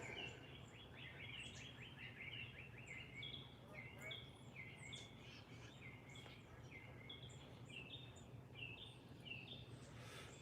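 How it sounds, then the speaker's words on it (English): Small birds chirp and trill repeatedly outdoors in the countryside, light and fairly distant over a steady low background hum. "Y'all heard the birds chirping?"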